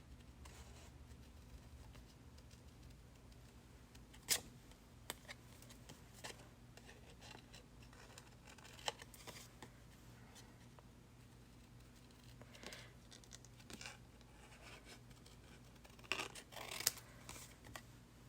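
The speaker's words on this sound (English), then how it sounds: "I'm moving the paper instead of my scissors just to get a little more accurate" Quiet, close snipping of scissors cutting paper, the paper moved rather than the scissors, with intermittent small cuts and rustles against a low steady hum.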